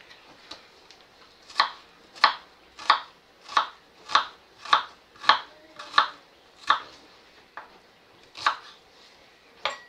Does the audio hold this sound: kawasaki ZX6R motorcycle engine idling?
no